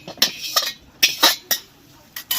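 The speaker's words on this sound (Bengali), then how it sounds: "এবার আমি কড়াইটাকে বসিয়ে দিয়েছি" A metal wok being set onto a kitchen stove while chicken is cooked: several short, sharp metallic clanks and knocks in a loose rhythm, close by, with quiet gaps between them.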